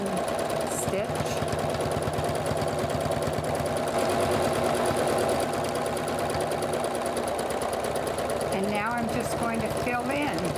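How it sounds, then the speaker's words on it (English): Sewing machine running steadily through free-motion quilting on a fabric seascape postcard, a fast continuous mechanical stitching chatter that fills the whole stretch, with a brief shift in pitch near the end. "I just go back and forth because I'm using the free motion stitch"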